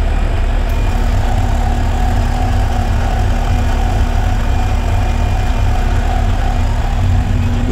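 A refrigerant recovery pump runs continuously in a reefer provision plant system, giving a loud, steady motor drone with a low hum and an even mechanical rumble and no voices.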